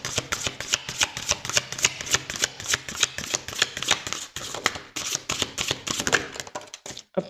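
Oracle cards being shuffled by hand, a rapid run of close, crisp riffling flutters that is steady for several seconds and then trails off at the end, with no talking.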